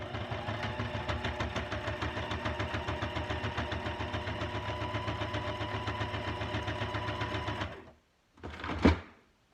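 A sewing machine runs a zigzag stitch in fast, steady mechanical chatter for several seconds, stops, then gives a brief louder burst; close and alone with no talking.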